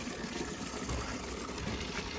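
Water from a pressure pump system gushing into a tub, a continuous, fairly faint broadband rush with no pauses over a brief stretch.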